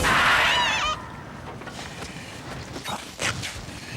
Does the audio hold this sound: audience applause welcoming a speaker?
no